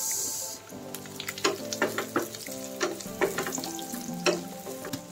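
Garlic and tomato sauté in a pan, a soft sizzle punctuated by a series of sharp scraping and tapping stirs from a utensil, close and clear with no talking.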